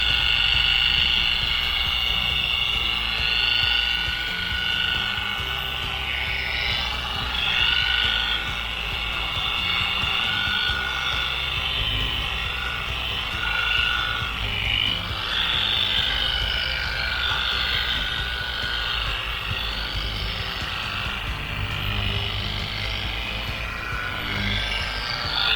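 A polishing machine buffs an aircraft exhaust with light pressure, giving a steady, continuous whirring drone with a bright mid-range hum that holds evenly throughout, close and moderately loud with no talking.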